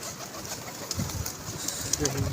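Pigeons coo softly at a pigeon club loft, low throaty calls coming in bursts with faint rustling while a voice talks in the background.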